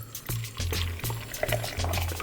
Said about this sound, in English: put everything into the blender. So right there, we're just gonna put some water inside of it